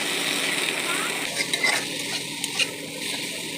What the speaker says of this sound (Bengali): এই টমেটো কুচি দিয়ে দিচ্ছি